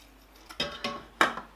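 A few quick metallic clinks of a spoon against a pot while stirring curry powder into lentil soup, three or four scrapes and taps in close succession.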